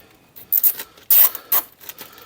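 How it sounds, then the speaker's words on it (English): A bag is zipped shut in a garage during a car suspension job, giving several short, loud rasping zip strokes with brief pauses between them. "And just zip it up."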